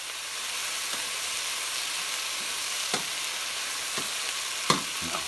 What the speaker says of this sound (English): add our other 2 cutlets to our oil